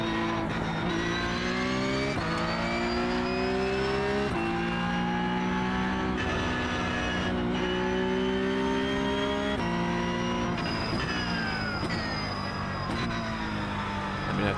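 Recorded in the iRacing sim at the Nürburgring, a Porsche Cup race car engine screams loud and steady, rising in pitch through each gear before sharp shift drops, with no talk over it.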